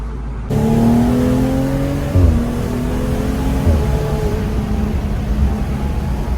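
A BMW M135i engine revs up hard from a sudden start, its tone climbing and dipping through gear changes, loud and close, with no talk.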